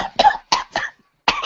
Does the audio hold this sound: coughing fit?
yes